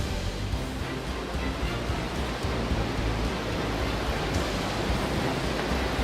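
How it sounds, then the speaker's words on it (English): Dettifoss, Europe's biggest waterfall, pouring about 200 cubic meters per second into a 44-meter canyon, heard as a dense, unbroken roar that fills everything evenly from low rumble to hiss, steady and loud with no voices. "Dedifoss, the biggest European waterfall with a flow rate of 200 cubic meters per second, bottoms out into a 44-meter canyon"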